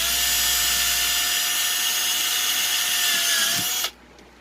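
A power drill bores a hole in scrap PVC pipe, giving a steady, loud, close whine that holds level for nearly four seconds before cutting off abruptly.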